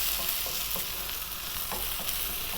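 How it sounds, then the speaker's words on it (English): Potatoes and okra fry in a pan as chili powder is stirred through them, giving a steady close sizzle with soft scraping strokes of the spoon every half second or so. "give us a little mix in, get that chili powder mixed in there"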